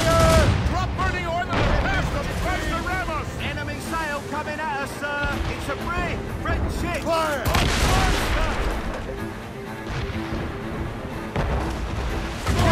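Cannon fire in a naval battle in Assassin's Creed Rogue: heavy booms and blasts roll almost without pause, loud and dense, with a crew shouting over the barrage.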